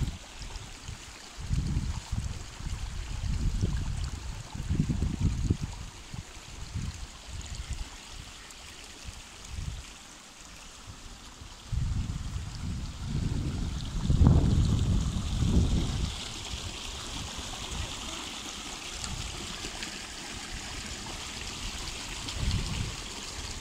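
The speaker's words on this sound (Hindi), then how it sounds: "ये पानी की आवाज़ जो है आप सुन सकते हैं।" Clear stream water flowing into a small pond in Kharmangpi-Das village in the Shigar valley of Gilgit-Baltistan, a steady rushing wash with surging low bursts and wind buffeting, no voices.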